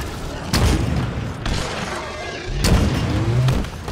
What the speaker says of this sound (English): But I'll take that rocket launcher.